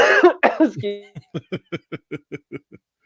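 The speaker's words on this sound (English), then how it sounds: "I did because I coughed" A couple of harsh coughs at the start, followed by a quick run of soft, evenly spaced breathy chuckles that fade out.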